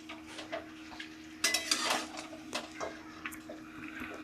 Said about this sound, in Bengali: এবার হচ্ছে আমি নাড়বো, আর আবার ঢেকে দেবো।